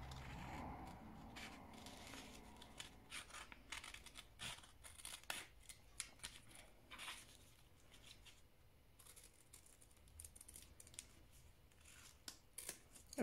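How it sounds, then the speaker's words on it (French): Scissors cutting out a paper shape close by, repeated crisp snips and paper rustling in an uneven rhythm, quiet and alone. "Je vais découper la forme pour être sûr de ne pas décalquer autre chose."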